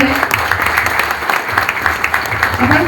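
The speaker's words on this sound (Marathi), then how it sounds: "जोरदार टाळ्या झाल्या पाहिजे रोहिंज पोलीस ठाणे यांच्यासाठी" Loud sustained applause from a gathered crowd at a police ceremony returning stolen goods and cash, dense steady clapping filling the room with voices mixed underneath.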